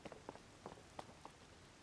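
Rain falling in the video game Zelda: Tears of the Kingdom, heard as a faint, sparse patter of scattered droplet taps over a quiet background.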